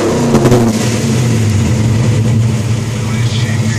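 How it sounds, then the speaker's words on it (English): Cadillac Fleetwood big body with a straight-flow exhaust pipe, its engine revving in a steady low drone that stays loud and close the whole time, with a brief throttle blip near the start. "I'm gonna let you hear the pipe."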